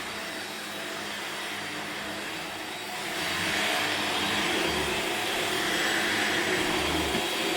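A lightweight Shark Lift Away vacuum cleaner runs steadily over carpet upstairs, its motor whirring loud and close, swelling a little louder partway through as it pushes across the pile.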